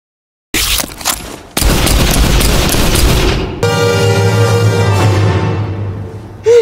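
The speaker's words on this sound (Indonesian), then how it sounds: "Luke pun melepaskan tembakannya secara bersamaan dengan tembakan yang dilakukan oleh Billy." Sharp bursts of gunfire and booming shots in a western film follow a moment of silence, with a heavy blast and a ringing, resonant tail near the end.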